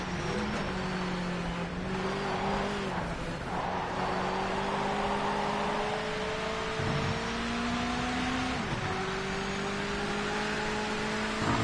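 A car in a racing video game revs through a burnout on the start line, its engine whining in steady tones that rise and dip, with a continuous hiss of spinning tyres underneath.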